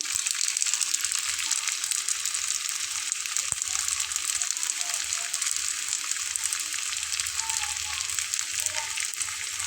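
Vegetable rolls coated with rice flour fry in a pan of oil over medium heat, giving a steady, dense sizzle that runs unbroken from start to finish with no one speaking.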